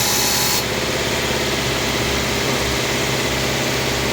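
A Subaru Forester's noisy air-conditioning compressor runs steadily under the hood, with a continuous droning hum and a faint rubbing grind. There is a brief hissy burst at the start, then the sound holds steady and loud throughout.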